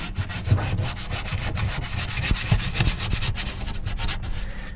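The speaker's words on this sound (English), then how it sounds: "So I imagine you could probably use like a 3M Scotch-Brite or something." A 3M Scotch-Brite pad scrubbing the surface of an RV holding tank, giving a loud, close, continuous rasping rub in quick repeated strokes with no talking.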